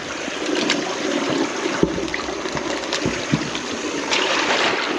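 Steady rush of water flushing from an irrigation center pivot pipe on a farm, with a continuous broadband gush and a few brief thumps, near and loud, no talking.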